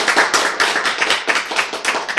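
Brisk applause from a lecture audience, a short burst of hand claps that rises and falls evenly for a couple of seconds with no voices over it.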